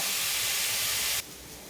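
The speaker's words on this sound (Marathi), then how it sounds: "आता आपलं पाच मिनिट आपण कांदा परतून देऊ जरा" A pan of onions sautés in oil with a steady, bright sizzling hiss that drops abruptly to a quieter crackle near the end, with no voices.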